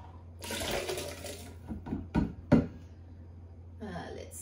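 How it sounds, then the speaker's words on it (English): Hot cooked carrots, potato, onion and garlic with a cup of water are poured into a blender bowl: a splashing pour, then a couple of knocks and clunks against the bowl, close by. "I'm going to add them hot to my blender bowl."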